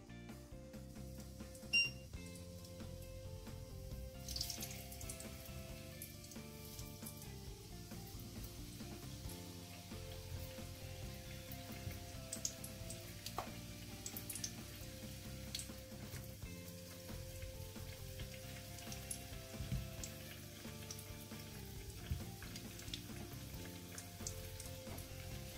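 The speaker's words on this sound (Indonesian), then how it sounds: "Sekarang kita goreng terongnya ya." Eggplant fries in hot oil, a faint, steady crackling sizzle that continues throughout, with light clinks and soft music in the background.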